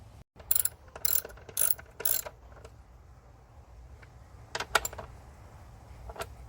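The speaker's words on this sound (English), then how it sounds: "take your 8mm socket and snug them down" Close-up 8mm socket ratchet clicking as bolts are snugged down during a purge valve install on a Ford Mustang, several short rapid pawl-ratcheting bursts, then a pause and a few more quick clicks.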